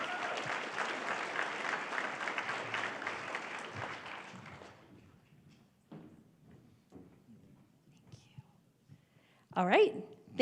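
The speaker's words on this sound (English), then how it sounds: "We have another round of applause for Castle Rock Schools" A school-district event audience gives another round of applause for Castle Rock Schools. The dense clapping fills the first few seconds, then thins and fades, leaving a quiet room with faint murmuring voices and scattered small noises.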